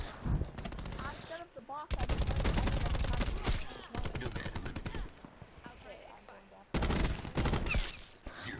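Rapid automatic gunfire from the video game Call of Duty Black Ops 4 comes in several loud bursts with short gaps between them.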